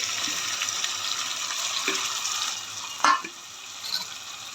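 Goat trotter curry with coriander and mint is stirred in a pan, a steady wet sizzle and hiss with a few sharp scrapes of the spoon near the end.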